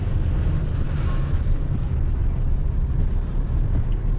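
Trailer rattling and thumping behind a truck as it drives along a road, heard as a dense, steady low rumble with constant road noise and no speech.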